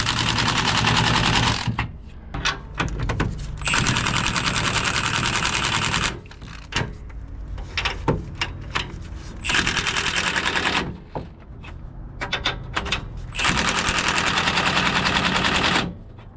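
A power tool tightening a bolt at a low torque setting during a Toyota Tacoma suspension upgrade with Old Man Emu Dakar leaf springs: loud, close bursts of rapid mechanical rattling hammering, several runs separated by short quiet gaps.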